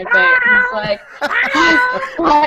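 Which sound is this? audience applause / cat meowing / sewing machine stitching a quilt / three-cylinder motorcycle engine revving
cat meowing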